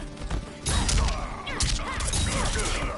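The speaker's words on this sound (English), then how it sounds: "You can do the standing 4 into the gunshots." Rapid gunshot effects from Cassie Cage's combo in the fighting game Mortal Kombat 11, a dense burst of sharp cracks and thuds layered with impact effects, loud and close over about three seconds.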